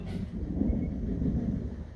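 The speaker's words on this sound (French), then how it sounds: "Puis il y a des bons coups de tonnerre" A low, steady rumble of thunder rolls on during a strong summer thunderstorm in Alsace, heard at moderate distance with no voices.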